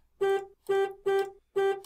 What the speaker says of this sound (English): And we can honk the horn.